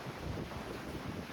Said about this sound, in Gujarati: પવન એકદમ જોરદાર મસ્ત આવે છે.